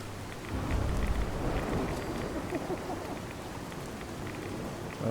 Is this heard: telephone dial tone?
no